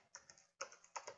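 Keys on a computer keyboard tapped in a few short, quiet bursts of clicks with brief pauses between, entering a Linux terminal command to install Node.js.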